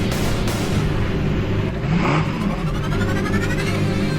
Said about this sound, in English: it's now time for race 2 as the cars make their way out onto the circuit here at Desi's Raceway